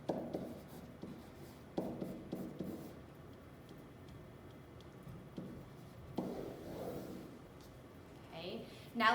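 Pen or pencil strokes scratch out a math answer in scientific notation, soft and close, in irregular bursts under quiet talk.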